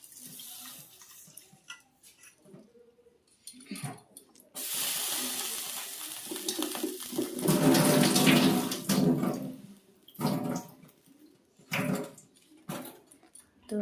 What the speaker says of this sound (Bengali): ডালটা ভালোভাবে ধুয়ে নিতে হবে।